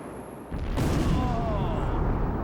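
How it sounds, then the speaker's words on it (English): Explosive demolition of the Charlotte Convention Center, a large building: after brief quiet, a sudden loud blast swells into a sustained distant rumble and roar that carries on to the end. "The explosion in a blast of this size is really several thousand small explosions, all happening over the course of several seconds."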